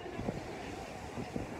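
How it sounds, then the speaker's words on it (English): Wind gusting at a beach, a steady rushing wash with faint buffeting, low and fairly quiet throughout. "It's very windy, but it's not actually cold"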